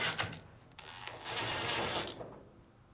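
Two mounting screws are driven in to fasten a panel on a Fisher & Paykel dryer during a drum bearing kit replacement. A faint, brief mechanical ratcheting whir is heard up close with no talk.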